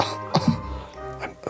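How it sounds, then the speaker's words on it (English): A tall, thin character performed in a spooky tabletop role-play gives a couple of short, dry coughs and throat clears, voiced close to the microphone by a man acting the sound. "I lean against the wall and cough a little."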